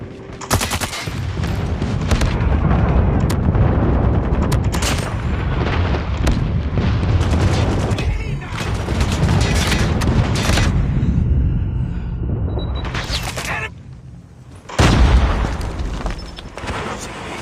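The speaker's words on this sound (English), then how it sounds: "Friendly Predator missile inbound. Friendly airstrike incoming." Loud, dense explosions and rumbling blasts from a Predator missile and an airstrike in the mobile shooter Call of Duty Mobile during a ranked multiplayer match, a near-continuous barrage with a brief lull before a final heavy boom.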